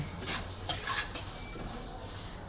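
Sesame seeds are dry-roasted and stirred in a pan, a soft steady scraping and faint sizzle with a few light utensil knocks, close and even throughout.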